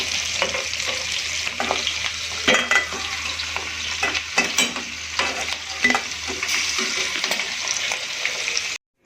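Dakor-style gota fritters, a Gujarati street-food snack, frying in hot oil with a steady, close, dense sizzle and occasional stirring scrapes, no talking.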